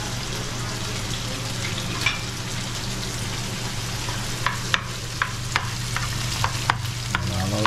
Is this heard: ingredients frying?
yes